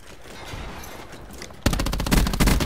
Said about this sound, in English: Bomb drop.